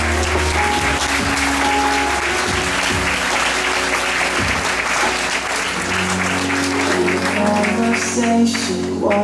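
Loud, dense applause from a festive audience at the Miss Cristal 2012 pageant, sustained clapping filling the whole stretch with some crowd noise mixed in.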